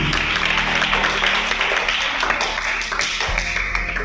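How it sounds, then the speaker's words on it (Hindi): Applause fills a hall at a Hindi Day poetry and music program, a thick, continuous patter of many clapping hands sustained throughout, loud and near. "जोरदार ताली बजा दीजिए।"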